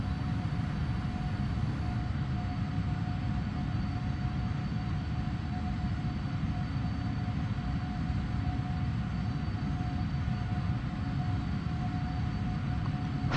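A simulated PMDG 777-300ER climbs in Prepar3D with a loud, unbroken jet engine roar and a steady whine held in the cabin for the whole stretch.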